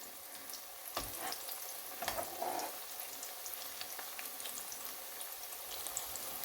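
Soya paneer frying in a pan over a medium flame, giving a steady, quiet sizzle with a few soft stirring scrapes and clinks near the start, no voices.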